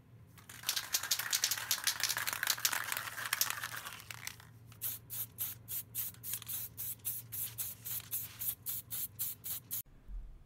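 An airbrush sprays paint onto a clay diorama hallway, first a steady close hiss for about four seconds, then a rapid run of short, evenly spaced spray bursts before stopping.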